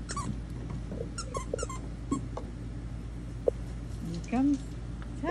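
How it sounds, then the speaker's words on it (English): A squeaky toy squeaks a few times, one longer squeak standing out, amid dog sounds and voices in a busy room. "You heard that squeaky. You heard the squeak."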